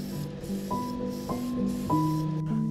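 Spray painting the body of a plastic model car kit with base color, a steady airy hiss running unbroken for a few seconds with faint tonal hum beneath.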